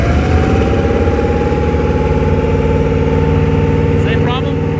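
Supra Sunsport boat engine with a fault, run in gear at full throttle, giving a loud steady drone that holds evenly throughout, with a brief voice near the end.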